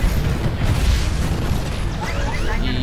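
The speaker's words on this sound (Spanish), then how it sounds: "Vamos a lanzarle cohetes." Rocket launches and explosions in the Titanfall video game, a dense burst of booming blasts and mechanical clatter lasting a few seconds, loud and close.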